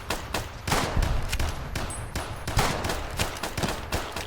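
Heavy video-game battle gunfire between NCR troops and Legion in the Mojave Wasteland: rapid overlapping shots and bursts, loud and dense throughout, with no talk.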